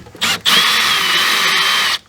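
A power drill backs screws out of a Suburban tankless water heater in an RV: two quick high-pitched whirs, a short blip and then a longer steady spin, loud and close with no talk.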